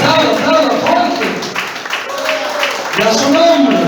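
A church congregation applauds loudly during a worship service, a steady wash of clapping that carries under continuous voices throughout.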